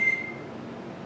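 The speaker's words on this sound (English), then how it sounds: "That was my phone." A phone's notification beep chimes once, short and clear, at the very start over a quiet kitchen backdrop where cookies are being decorated.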